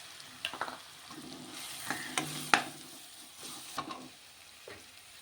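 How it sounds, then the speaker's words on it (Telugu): Finely chopped onions (two of them) frying in a pan for a potato and chickpea curry, a low continuous sizzle broken by scattered spatula scrapes and clicks, near and moderately quiet, with no talking. "దీంట్లోనే 2 ఉల్లిపాయలు చిన్నగా ఇలా ముక్కలు కోసుకుని వేసుకోవాలి."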